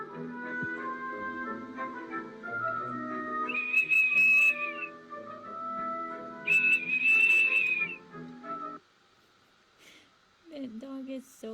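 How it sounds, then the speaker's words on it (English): A young child blowing a whistle, two shrill steady blasts of about a second and a half each over background music, with a short faint whistle near the end. "Finds a whistle and he learned how to blow on it, and apparently he likes to blow it all the time."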